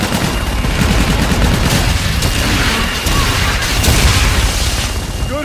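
Fire-mission strike in Call of Duty: Infinite Warfare: a dense, continuous barrage of booming blasts and crackling gunfire rumbles loudly throughout, with radio voices mixed beneath the explosions.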